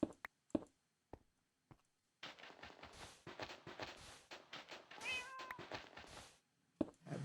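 A calico cat in Minecraft gives a run of short meows, alone and fairly faint, with a few sharp isolated clicks before and after.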